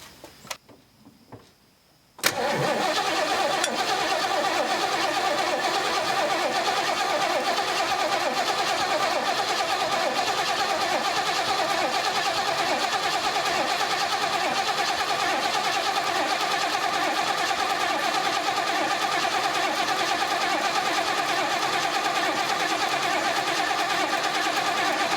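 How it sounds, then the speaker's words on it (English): A short cranking burst comes from a rebuilt car engine with a carburetor, which then catches and runs. It settles into a loud, steady idle that continues with no talk. "So you're going to go ahead and crank it."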